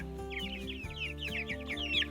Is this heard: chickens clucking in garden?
yes